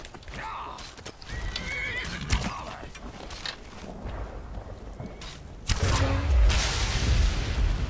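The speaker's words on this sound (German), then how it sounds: "Wir haben Pferde." Horses whinny and snort over clopping hooves in the video game Skyrim, with sharp thuds and impacts scattered throughout and a heavier rumbling burst toward the end.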